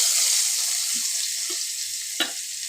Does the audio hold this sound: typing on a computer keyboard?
no